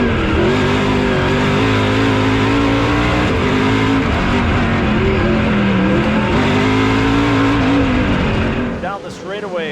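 800-horsepower race cars roar hard off the launch down a straightaway, a dense, loud engine howl with rising harmonics under excited commentary, then a sudden drop near the end as the sound fades.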